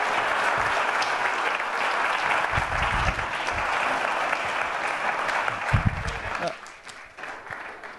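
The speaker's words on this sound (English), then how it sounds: "Giving an applause to James Levesque" An audience at an arts and entertainment industry forum applauds for a visiting bassist, dense clapping that holds steady for several seconds with a few low thumps, then thins and fades near the end.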